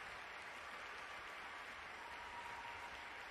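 Crowd cheering and applauding at The International 10 Dota 2 tournament, a steady, dense wash of distant arena noise with no clear breaks, fairly faint throughout.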